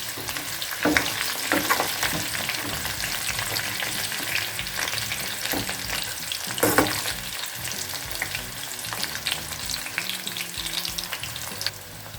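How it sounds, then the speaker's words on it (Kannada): Curry leaves roast in hot oil in a pan for chicken kabab, sizzling and crackling continuously up close with occasional scrapes and stirring clatters. "ಸೊ ಕರ್ಬೇವಿನ ಸೊಪ್ಪು ಚೆನ್ನಾಗಿ ರೋಸ್ಟ್ ಆಗಿದೆ"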